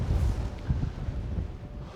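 Gale-force wind buffets an exposed Lake District fell at a wild camp, roaring in loud, low gusts close against the microphone, with rumbling surges and no speech.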